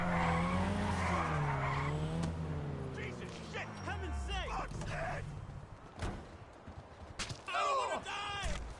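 Tires skid and squeal in short bursts while a car drifts in GTA 5, mixed with engine revving, and someone talks over the first part of it.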